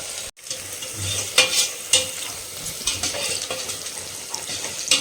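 Small shallots sautéing in a pan for country chicken biryani, a steady close sizzle with occasional louder stirring scrapes and clinks, no voices.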